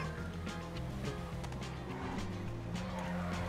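Car tires skidding and squealing in GTA RP, a continuous rough screech over engine rumble, fairly quiet.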